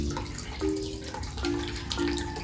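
Chlorinated tap water from a municipal supply pours steadily into a backyard tilapia pond, a low continuous gushing splash with faint tonal ringing, heard alone without voices.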